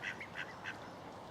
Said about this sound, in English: These ducks here are doing some kind of rain dance by the looks of it.